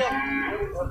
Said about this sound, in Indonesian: ini anak kerbau juga ini